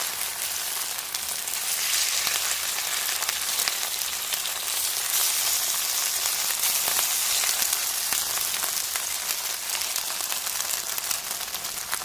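Rice patties (chawal ki tikki) fry in a little ghee with a steady, close sizzle and spatter that continues without a break and stays alone and fairly loud.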